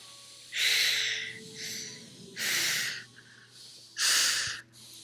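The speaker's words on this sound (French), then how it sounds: "respirez à travers les dents" Three strong, hissing breaths are drawn in through the teeth, each lasting about half a second, with softer airy breaths between them during a guided breathing meditation.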